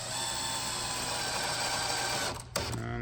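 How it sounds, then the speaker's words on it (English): A power drill at a low setting drives a fastener into a DIY console kit, a steady whirring buzz running continuously before a brief stop and click near the end. "So keep your drill at a lower setting."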